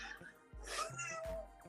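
A young kitten meows, a couple of short, fairly close mews in quick succession over a quiet room.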